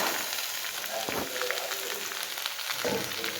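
Shelled green peas tossed into a pan of frying mixed vegetables and stirred in: soft steady sizzle with a couple of brief scraping stirs, fairly quiet throughout.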